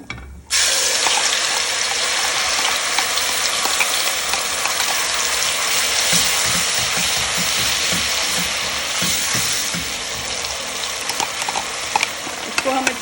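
A spice paste with cinnamon hits hot oil for an egg and potato curry, bursting into a loud, dense sizzle that holds steady for over twelve seconds, with scattered stirring clatter and crackles; no speech.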